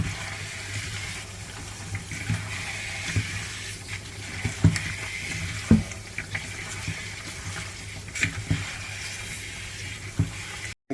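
Cut carrot pieces, about four inches long, are rinsed by hand in water for pickling: irregular splashing and sloshing with soft knocks of the pieces, close up and without talking.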